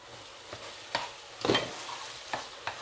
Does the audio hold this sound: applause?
no